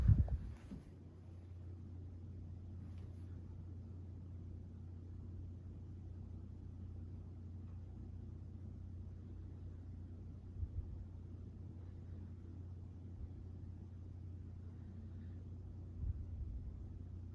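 A vintage Freshnd Aire 26-inch table fan, Model 2600, winds down with a steady low droning hum that carries on faintly and evenly, after a brief click at the start.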